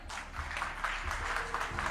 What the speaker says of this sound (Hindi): सबसे पहले तो सतीश जी के लिए जोरदार तालियां।